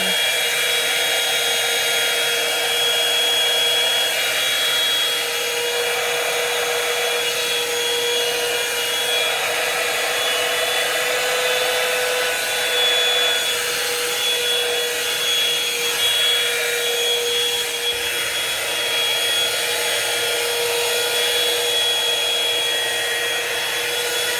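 A blow-dryer brush drying long hair gives a steady, loud, continuous airflow whine with no pauses, close and alone without talk.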